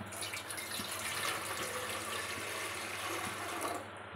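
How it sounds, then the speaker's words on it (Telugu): Water pours into an idli cooker sitting on the stove, a steady, soft, gushing splash running for about four seconds before cutting off, with no one speaking. "వాటర్ పోసుకుందాం."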